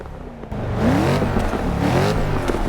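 A 2016 Mercedes C63 AMG S Coupe in Forza 6 fires up with a sharp start, then revs loudly through rising and falling engine pitch, close and alone.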